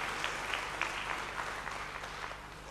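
Steady applause from an audience for musicians, a dense even patter of many hands clapping at a fairly distant, moderate level with no voices over it.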